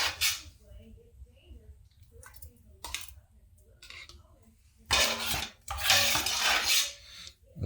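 Thick tomato sauce ladled through a canning funnel into hot jars: soft clinks and scrapes of a utensil on glass and metal, then louder wet pouring and sloshing bursts near the end, close and with quiet gaps between.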